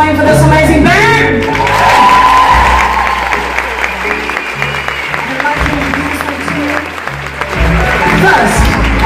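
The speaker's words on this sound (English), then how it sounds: "Ladies and gentlemen, please give that applause going for this amazing band" Theatre crowd applauding and cheering for a band at a tribute show, with whoops and shouts over loud bass-heavy music and a voice over the PA.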